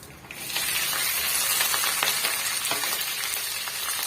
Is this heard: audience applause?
no